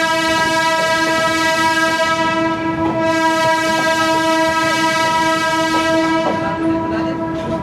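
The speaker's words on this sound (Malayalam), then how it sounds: "ആൾക്കാർ ട്രാക്കിന് കുറുക്കെ നടക്കുന്നത് അവരെ അലേർട്ട് ചെയ്യാൻ വേണ്ടി EMU ഹോൺ അടിക്കുന്നതാണ്" An EMU suburban train near Chennai's Avadi station sounds a long, loud, steady horn up close while passing, with wheels clattering on the rails beneath it throughout.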